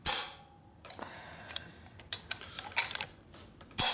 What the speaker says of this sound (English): And then we torque it.